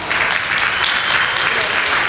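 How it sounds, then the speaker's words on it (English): An audience at a gala applauds with a dense, steady round of clapping, loud and close, sustained throughout without a break. "stand up so we can have a good round of applause"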